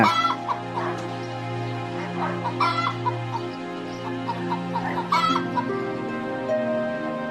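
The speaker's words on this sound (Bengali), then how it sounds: "মুরগিগুলোকে খেতে দেই কত বেলা হয়েছে এখনো মুরগিগুলো আমার না খেয়ে আছে" Cartoon farm chickens cluck and squawk in repeated bursts over a sustained melodic music bed, fairly close and lively, with no speech.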